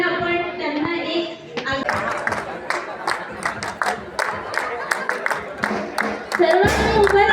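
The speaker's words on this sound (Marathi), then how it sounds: "सर्वांनी उभं राहून टाळ्या वाजवून अतिथींचं आपण स्वागत करूया" A school alumni gathering audience stands and claps to welcome arriving guests, loud rhythmic clapping from a crowd with some cheering, an announcer's voice heard near the start and end.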